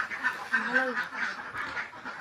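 Domestic farm ducks quack in a steady nearby chatter, with a few rising calls, while a person talks over them.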